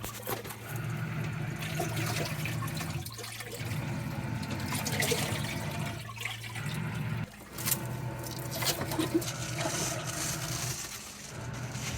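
A compact washing machine installed in a caravan runs its spin cycle, with water trickling and sloshing over a steady low mechanical hum that pauses and restarts a few times.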